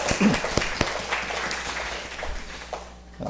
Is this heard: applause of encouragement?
yes